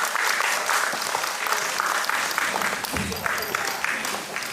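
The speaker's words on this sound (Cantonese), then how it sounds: "大家俾啲掌聲" Audience applause at a Cantonese community line-dance session, steady dense clapping throughout with a faint rhythmic backing track underneath.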